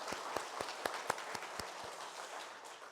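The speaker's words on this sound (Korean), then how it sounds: "감사와 영광의 박수 올려드리겠습니다." Scattered claps from a church congregation during a Sunday worship service, a handful of sharp hand claps spread unevenly over a steady background hum, fading out after a couple of seconds.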